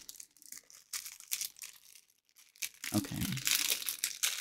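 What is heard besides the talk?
crinkling of mail packaging being opened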